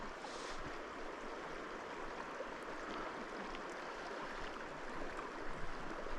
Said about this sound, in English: super steady flow that we got going in the river right now